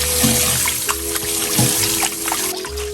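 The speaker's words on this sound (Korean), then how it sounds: "찬물에 재빠르게 좀 씻어주셔야 돼요. 전분기가 좀 빠지게끔 이렇게 좀 살살 좀 이렇게 주물러주세요." Food rinsed quickly under cold running water in a kitchen sink and rubbed gently to wash out starch: a steady close stream of tap water with soft splashes and trickles throughout.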